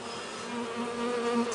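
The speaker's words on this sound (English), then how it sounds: "This bee is attacking a small hive beetle." Honey bees hum in a hive, a steady close buzz with a low drone that wavers slightly while a bee attacks a small hive beetle.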